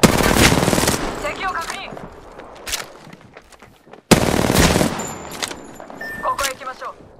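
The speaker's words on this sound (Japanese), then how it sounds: "みんなセーフティーを外して撃よう" Apex Legends gunfire: two sharp, loud bursts of rapid shots, one at the start and one midway, each trailing off into quieter echoes, with a voice speaking between them.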